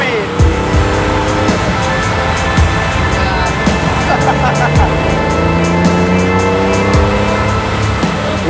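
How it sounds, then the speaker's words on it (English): A Ferrari sports car driving fast through city streets in Bangkok, its engine note rising and falling with shifting tones over steady traffic noise and mixed sounds, held loud and continuous throughout. "You can never go wrong in a Ferrari."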